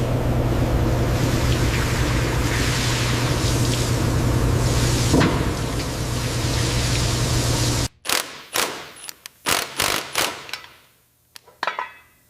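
A V-type engine's cylinder head on a restored Dragon Wagon truck is lifted from a wash basin, with a long steady rush of sloshing water followed by a series of sharp metallic clunks and knocks, close and with no talk.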